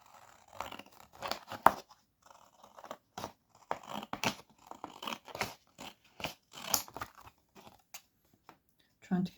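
Paper card stock being cut down to size for handmade card making, a series of short crisp snips and crunching cuts at close range, interspersed with quiet handling.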